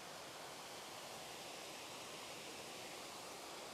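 A waterfall at a local park in winter flows with a continuous hissing roar, even and unbroken throughout, moderately distant and without any talk over it.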